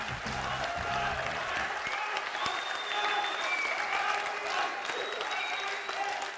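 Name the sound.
theatre audience applauding a poet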